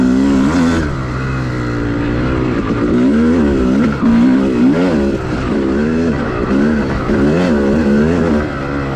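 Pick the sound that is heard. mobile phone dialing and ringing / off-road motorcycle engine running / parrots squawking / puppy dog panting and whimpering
off-road motorcycle engine running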